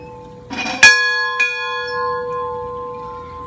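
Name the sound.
old wooden schoolhouse bell ringing to call students to class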